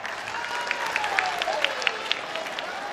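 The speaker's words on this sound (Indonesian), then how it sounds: "Tepuk tangan yang meriah." Applause from a crowd at an Indonesian campaign rally for a 2024 vice-presidential candidate, a steady clapping wash with a few louder claps standing out, carrying on under a faint tone and some background voices.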